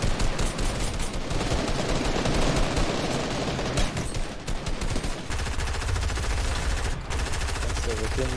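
Rapid, repeated gunfire rattles through a Fortnite Winter Royale duo match, dense bursts of shots continuing for several seconds, loud and close, with players talking over it.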